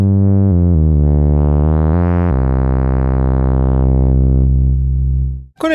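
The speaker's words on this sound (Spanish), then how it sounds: "Con el potenciómetro de Wave podemos agregar saturación." Arturia MicroFreak synthesizer playing a low bass line two octaves down, saturation added with the Wave knob, sustained harmonic-rich notes changing pitch several times and brightening as the saturation rises, loud and close with no talk.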